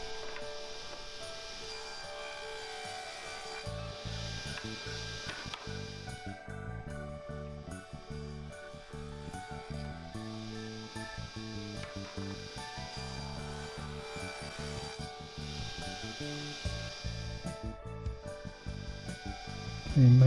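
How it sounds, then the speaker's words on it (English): Jarrah wood box top and ends being hand-planed, heard as faint repeated scraping strokes in an irregular rhythm over a quiet tonal background. "I've finished planing the ends down and the jarrah top"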